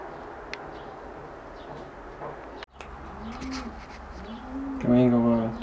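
Racing pigeon, a 2009 Jan Aarden cock, coos softly while being handled, with a louder burst of cooing near the end over faint background noise.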